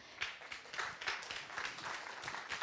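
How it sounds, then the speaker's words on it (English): Audience applause at a WordCamp Asia 2024 conference talk, a steady wash of many hands clapping from a crowd in a hall, moderately loud and continuous throughout. "So please give a big round of applause to Helen."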